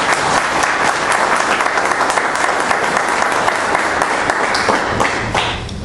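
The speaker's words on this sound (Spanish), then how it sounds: "démosle ese fuerte aplauso de bienvenida." A church congregation breaks into loud, sustained applause of welcome, dense clapping from many hands filling the room, fading slightly at the end.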